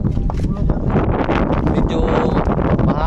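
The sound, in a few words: wind at sea on a boat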